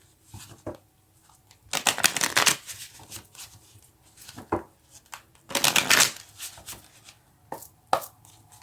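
Tarot cards shuffled in two long riffling bursts with a few short taps and flicks between them, close and fairly loud, no talking.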